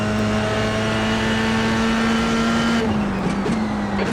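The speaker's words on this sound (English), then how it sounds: "I don't know if you can hear the tyres sliding" A Formula 3 racing car engine in the iRacing video game drones steadily at high pitch at Zandvoort, with a brief scrubbing, wavering noise near the end as the tyres slide.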